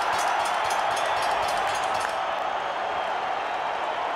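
A boxing crowd roars steadily in a Las Vegas arena at the close of a bloody Marquez–Barrera fight, a dense wall of cheering and applause that eases slightly halfway through.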